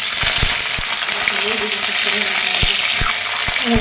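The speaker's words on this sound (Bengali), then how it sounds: "দু পিস মাছ ভালো করে ফ্রাই করে নিচ্ছি" Two pieces of fish frying in a pan, a loud, dense, continuous sizzle with scattered knocks of a spatula against the pan, close up.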